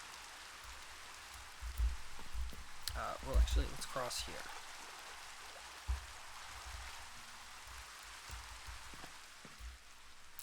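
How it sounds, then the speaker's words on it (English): Steady rain falls in the Minecraft video game, a soft continuous hiss, with someone talking over it and faint footsteps and game clicks. "It's raining."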